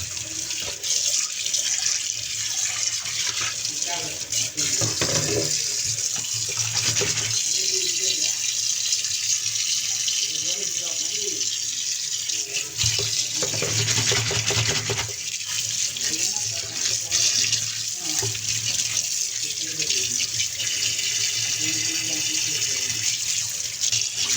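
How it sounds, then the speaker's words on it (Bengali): Steady tap water runs throughout while fish is washed in a kitchen sink, with splashing and handling noises rising and falling over a constant stream; a faint voice or background sound is present at times. "এখন হচ্ছে একে একে লেবুগুলো উঠিয়ে নিব, তারপর খুব ভালোভাবে ধুয়ে নিব।"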